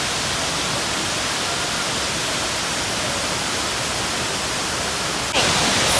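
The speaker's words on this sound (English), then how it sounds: "So after a simple hike, we have arrived at Nakibiso Falls." Nakibiso Falls on Wanale Hill in Uganda gives a steady, dense roar of falling water, constant and fairly loud throughout, with a slight jump in level near the end.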